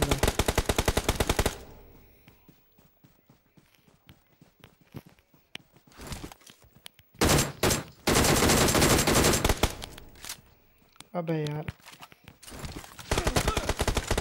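Bursts of automatic gunfire from BGMI, a mobile battle royale game, come in loud rapid volleys with quiet gaps between them, and a player talks briefly.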